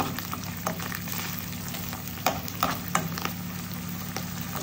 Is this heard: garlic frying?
yes